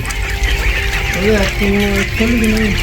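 Ducks on a duck farm give several short nasal quacks in quick succession over background chatter and farmyard noise.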